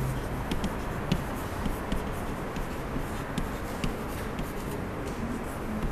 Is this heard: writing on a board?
yes